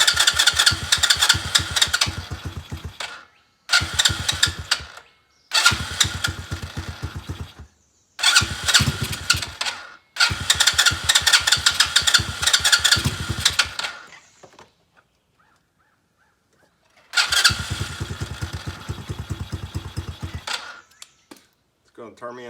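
Small 110cc X-pro Bolt motorbike with a fault, cranked several times in short bursts of engine noise separated by pauses, then catching and running on at a rough idle, loud and close.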